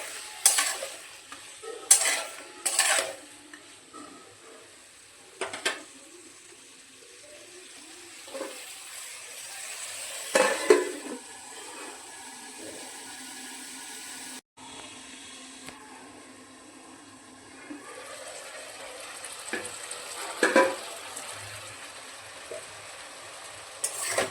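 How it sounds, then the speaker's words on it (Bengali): Papaya cooking in a covered pan in its own released water with turmeric and salt hisses and sizzles softly, broken by several bursts of stirring and scraping, with a lid clatter partway through. "পেঁপে থেকে কত জল বেরিয়েছে, এই জলটা শোকাতে শোকাতেই পেঁপে সেদ্ধ হয়ে যাবে এবং অর্ধেক ভাজাও হয়ে যাবে"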